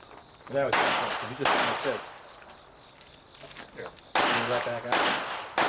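Rapid pistol gunfire at an IDPA shooting match: two sharp bursts of quick shots, about a second apart, then a quiet gap with faint chatter, followed by two more loud strings of rapid shots.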